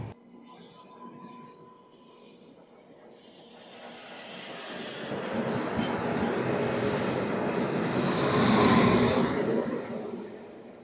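The 17215 Machilipatnam–Dharmavaram Express near Erragontla Junction: a rumble that starts faint and swells into a loud roaring peak near the end before easing slightly.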